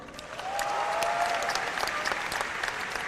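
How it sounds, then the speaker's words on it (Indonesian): An audience at a comedy roast event breaks into sustained, dense applause, loud and close, with a few scattered cheers over the clapping. "Tepuk tangan dong."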